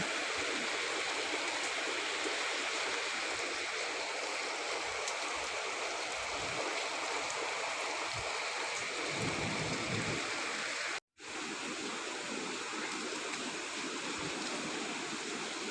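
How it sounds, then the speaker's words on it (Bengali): Steady rain pours down in a dense, continuous hiss in a windy village, with a momentary dropout partway through before the downpour resumes. "বৃষ্টি পড়তেছে।"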